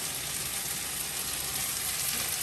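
Mutton masala sizzling steadily in a hot pan as chili powder is scattered over it, a dense, even frying hiss close up with no voices.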